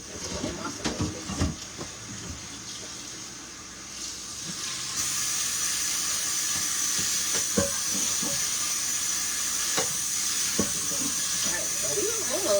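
Water runs and splashes while a small copper pan is rinsed in a home kitchen, a steady hiss of flowing water with scattered clinks and knocks, close by, and a voice talking briefly at the start.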